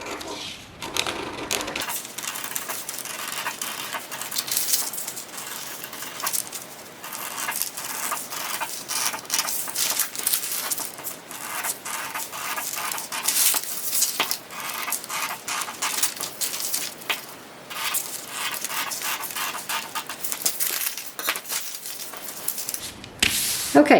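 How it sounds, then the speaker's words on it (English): Scissors snip steadily through a paper sewing pattern for a panty, a continuous crisp slicing and rustling run close by for over twenty seconds with no talking. "So I'm going to go ahead and cut out the rest of this"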